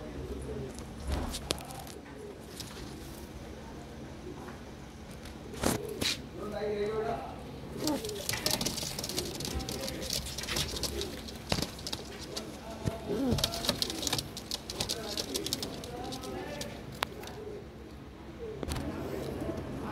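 Madrasi Black pigeons coo softly and repeatedly at close range, the throaty calls rising and falling under someone talking throughout.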